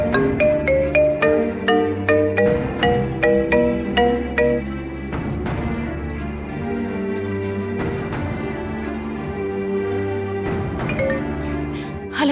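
A melodic phone ringtone plays a repeating chiming pattern, loud and close, looping several times without any talking.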